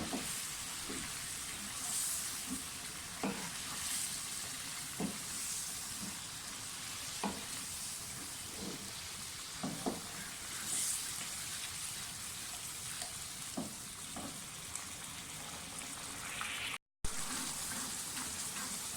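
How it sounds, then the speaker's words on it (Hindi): Masala for lobia masala, made with tomatoes and yogurt, fries in a pan with a steady sizzle while a spoon stirs it in repeated scraping strokes, close and continuous, with no talking. "मसाला हमारा भुन रहा है अच्छी तरह से।"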